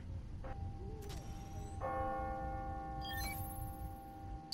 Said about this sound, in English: Ringing on the hour.